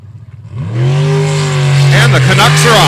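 A racing boat engine in the 400 class during a qualifying round, rising from a faint start to a loud, steady droning roar, held close for the full stretch.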